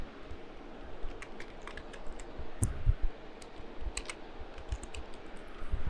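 Typing on a computer keyboard while entering an XML doctype, with irregular close clicking keystrokes and a few louder taps, no talking.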